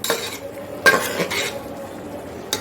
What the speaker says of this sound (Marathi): आता छान परतूया कांदा